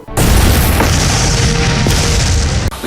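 A loud film explosion sound effect hits suddenly and turns into a sustained, heavy, deep roar that holds for about two and a half seconds before cutting off abruptly.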